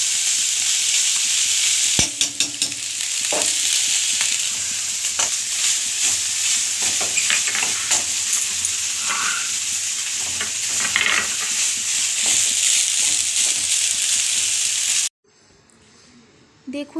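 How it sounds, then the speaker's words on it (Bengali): Leafy greens (shaak) frying in a pan for lunch, a steady loud sizzle with occasional stirring clinks and scrapes for about fifteen seconds before it cuts to quiet. "আর দুপুরের জন্যে শাক ভাজা করছি।"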